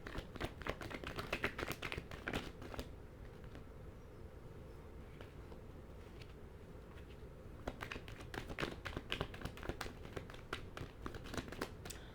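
A deck of tarot cards is shuffled close up, with bursts of papery riffling and tapping on either side of a quieter stretch; nobody talks.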